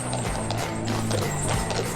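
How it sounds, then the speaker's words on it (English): Horse and cart on a 19th-century-style British delivery route, hooves clip-clopping steadily and fairly close across a constant background rumble, with no talk. "Horse and carts delivered loads throughout the 19th century to the parts the railways couldn't reach."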